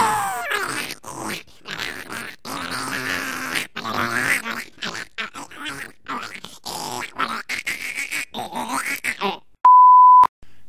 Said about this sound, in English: a child gremlin.